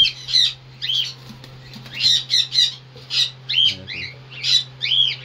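Pet cockatiels squawk loudly and repeatedly close by as they are sprayed with water in hot weather, shrill bursts following one another over a steady low hum.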